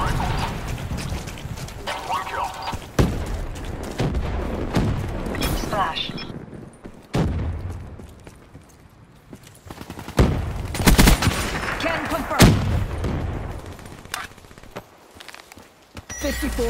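Repeated airstrike blasts and gunfire bursts from a Lightning Strike killstreak in Call of Duty Black Ops, loud and dense throughout with sharp impacts clustered near the start and again near the end, with game voices over the combat.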